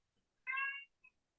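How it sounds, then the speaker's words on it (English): A male cat meows once, a short harmonic cry of about half a second, close and fairly clear in a quiet room, followed by a faint brief chirp. "He's meowing."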